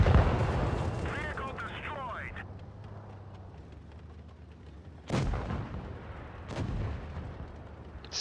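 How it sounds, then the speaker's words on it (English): Tank cannon fire in World of Tanks Blitz, an M46 Patton in battle: two sharp, loud booms a second or so apart over engine rumble and background game noise, with a person talking early on. "Fire, fire!"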